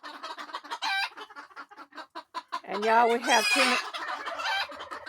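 Several roosters and hens cluck and crow inside a chicken coop wrapped in clear plastic canvas and hardware wire. Steady clucking builds into a loud crowing burst midway, while a person talks over the flock.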